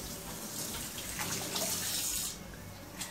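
Tap water runs steadily at close range while homemade saffron and annatto soap is foamed on a clean cloth, a continuous hissing splash that eases off near the end.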